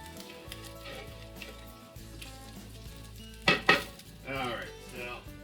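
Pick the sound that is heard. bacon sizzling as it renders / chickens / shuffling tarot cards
bacon sizzling as it renders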